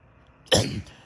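The Snot Rod car in the Roblox game sneezes once, a single abrupt, close burst that trails off within half a second.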